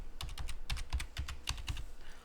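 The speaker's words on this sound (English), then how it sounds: "I was typing the right thing." A password is typed on a computer keyboard during a Linux Mint upgrade, a quick run of about a dozen crisp key clicks, close and fairly quiet.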